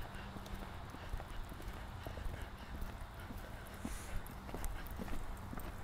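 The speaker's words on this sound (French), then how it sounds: "Tout petit peu plus de galop." Horse hooves clip-clopping at a gallop in an equestrian riding lesson, a steady rhythmic beat close by over a continuous ground rumble, with no one talking.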